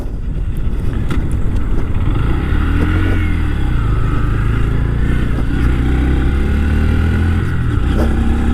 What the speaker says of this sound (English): It's not a particularly fast bike, it's 125cc, I think like 9 horsepower, something like that.